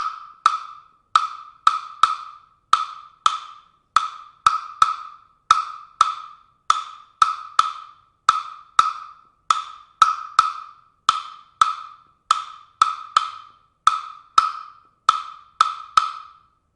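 Congas played at a faster tempo in a rumba clave feel: a long run of crisp, sharp hand strikes in a steady repeating syncopated pattern, close and dry, with no talking.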